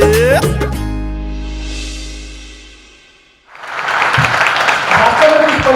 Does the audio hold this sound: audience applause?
yes